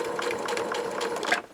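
A sewing machine back stitches a lanyard in a single short, close burst of steady running.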